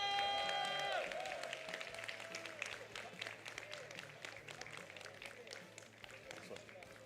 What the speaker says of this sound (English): One last round of applause for Fenritti.